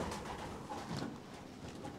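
Pigeons coo steadily in a Belgian pigeon loft, a soft continuous murmur of several birds close by, with faint rustling and no voices.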